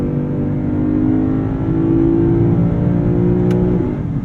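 A 2023 Lexus IS 500 V8 engine revving loudly with a deep, steady drone that climbs in pitch, then a quick gear change near the end, heard from inside the car.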